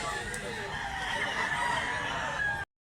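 A rooster crows close by in a long, drawn-out call, with a faint voice briefly audible under it before the sound cuts off abruptly.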